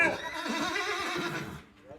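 A mare neighs loudly and close by, a long wavering whinny lasting over a second and a half before fading out, with some talk around it.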